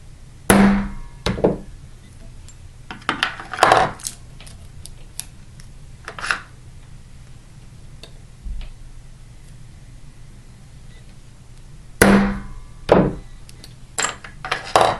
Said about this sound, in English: pull it down toward the tape, and give it a nice firm tap